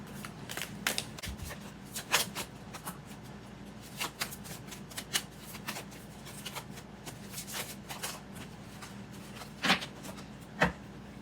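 Oracle cards are shuffled by hand close up, giving a steady papery riffling with sharper snaps and flicks at uneven moments and no voice.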